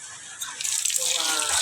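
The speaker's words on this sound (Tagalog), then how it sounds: "yung may tulo." Water dripping and trickling from a leak at a pig pen, a steady splashing wash that grows louder partway through and runs continuously.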